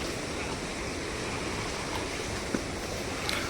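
A monsoon river rushes at full pressure in a loud, continuous roar of churning water, with a faint knock near the end.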